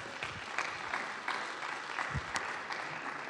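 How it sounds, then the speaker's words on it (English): Quiet audience applause at a small startup community gathering, a scattered patter of clapping from a modest crowd heard at a distance. "Yes, give them a round of applause"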